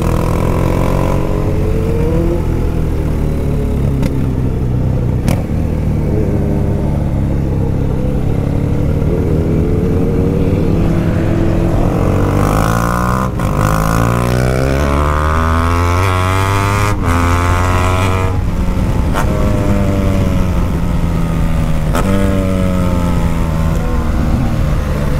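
A Volkswagen Gol revs its engine loudly at a street gathering alongside other vehicles, with rising and falling engine pitches over a constant roar, close and dominant throughout.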